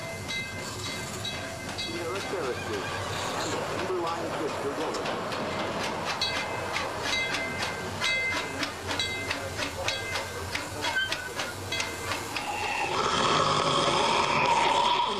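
Train at the Knott's Berry Farm amusement park running on rails: steady rolling rumble with rhythmic clacks and hissing, swelling louder near the end.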